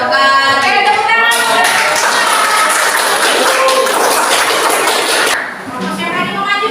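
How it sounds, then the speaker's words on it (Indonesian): Classroom students clapping together after a group presentation, a dense, steady burst of many hands lasting about five seconds before tapering off, with some chatter around it. "Tepuk tangan."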